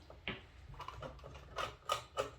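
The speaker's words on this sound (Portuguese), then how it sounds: "Na sequência, eu faço a remoção aqui dos parafusos." Small screws come out of a Dell Inspiron 3277 all-in-one computer, giving a few close, faint clicks and scrapes of a screwdriver in quiet surroundings.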